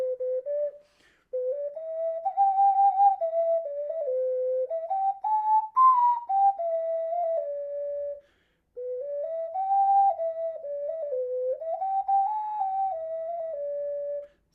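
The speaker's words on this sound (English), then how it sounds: "SD is correct, it's an ocarina." An ocarina plays a smooth, pure-toned melody of rising and falling phrases, loud and close, with one brief pause midway and no voices.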